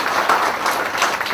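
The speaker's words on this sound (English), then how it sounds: "deserve a big round of applause" Audience applause at a talk, a dense wash of many hands clapping steadily and fairly loud for a brief moment.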